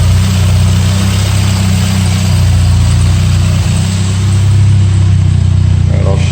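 The engine of an unrestored 1981 Volkswagen Scirocco S with CIS Lambda fuel injection runs at a steady idle, heard very close and loud as a constant low hum with a slight rise near the end.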